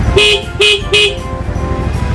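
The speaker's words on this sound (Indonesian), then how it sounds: "coba kita pencet klaksonnya" A Honda Vario 110 scooter horn honks three short times in a quick, even rhythm, loud and close.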